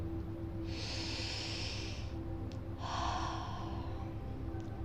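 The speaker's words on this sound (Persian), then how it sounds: "دمی عمیق و باز دمی آرام." A person drawing a deep inhale and then a slow exhale during meditation, two long breathy hisses close to the microphone over a steady low hum, with no words spoken.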